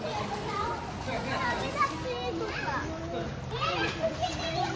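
Children shout and chatter excitedly as they play, their voices overlapping at close range with a lively, noisy background, while an adult asks in Bengali why they are shouting.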